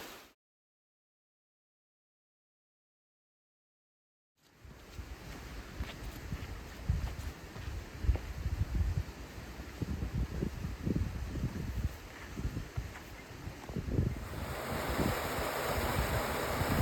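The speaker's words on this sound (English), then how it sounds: "These waterfalls are lovely, really nice." Steady rushing water noise after a silent start, a continuous broadband roar like a waterfall at moderate distance, with occasional low thumps and wind buffeting.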